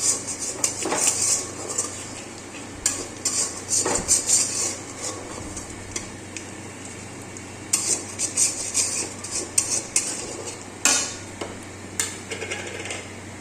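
Spices are stirred in a metal cooking pan for a homemade chicken kosha, with repeated sharp scrapes and clanks of a utensil against the pan at an irregular pace, close and fairly loud.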